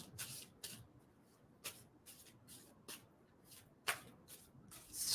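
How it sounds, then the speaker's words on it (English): A deck of playing cards being shuffled by hand, with repeated riffle bursts at an uneven rhythm, close and fairly quiet, with a brief soft pause between bursts and no talking. "tell me when to stop shuffling on that."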